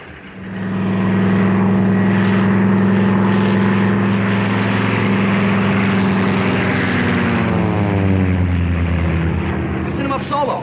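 Airplane engine of a 1941-era aircraft taken up solo, a loud steady droning roar that swells in and holds, its pitch shifting slightly toward the end.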